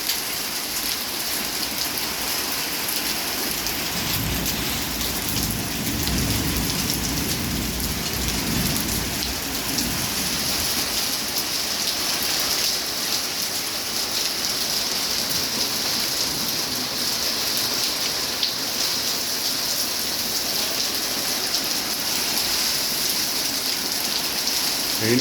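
Heavy rain pours steadily onto surfaces for the whole stretch, a dense hiss with low rolling rumbles of thunder underneath, especially early on, and no voices.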